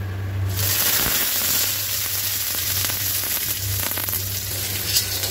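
Chopped onion frying in a pan for a potato chicken curry, a steady close sizzle and crackle running without a break, with a low hum underneath.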